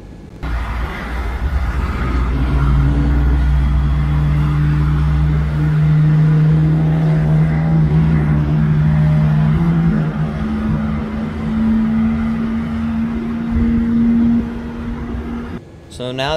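Boeing 787 engines in Microsoft Flight Simulator 2020 spin up into a loud, steady whine and hum whose tones rise and shift over several seconds, holding constant before cutting off near the end; a voice speaks briefly.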